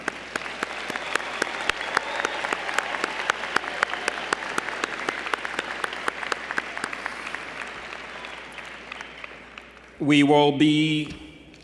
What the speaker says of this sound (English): With a round of applause, congratulations again to you, our newest alumni.